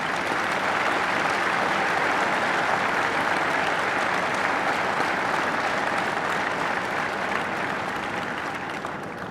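Sustained audience applause fills the hall at the closing of Mali's inclusive national dialogue, a dense, even roar of many hands clapping that holds steady and only begins to ease toward the end.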